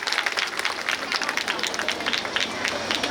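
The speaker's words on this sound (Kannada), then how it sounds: "ಅವರಿಗೊಂದು ಜೋರಾದ ಚಪ್ಪಾಳೆಯೊಂದಿಗೆ ಅಭಿನಂದನೆ ಸಲ್ಲಿಸ್ತಾರೆ" A crowd applauds at the inauguration of a Kaivara Tatayya temple in Chikkamagaluru, with dense, steady clapping throughout and voices mixed in.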